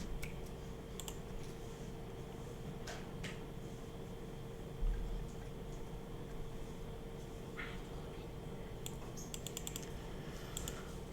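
Typing on a new computer keyboard, with scattered clusters of quick key clicks over a steady low hum, close by and without speech.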